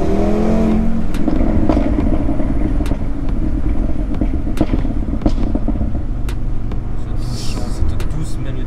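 An Audi RS3 tuned by ABT revs hard, with loud rising engine roars and sharp pops or crackles over a rumbling base, while people talk over it.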